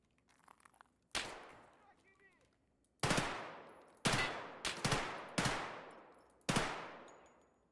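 Unsilenced gunfire in Escape from Tarkov cracks out as a loud single shot, then a string of sharp, echoing reports in an uneven rhythm, each trailing into reverb, with only faint sound between.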